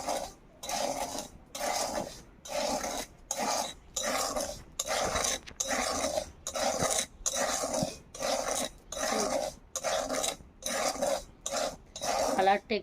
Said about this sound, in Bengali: এইভাবে বন্ধুরা আমি অনবরত নাড়তে থাকবো